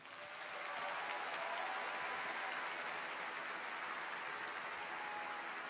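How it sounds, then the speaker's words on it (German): A large audience at an Austrian People's Party election campaign kickoff rally applauds steadily, a dense, even wash of clapping that swells in and holds for several seconds. "Einen großen Applaus"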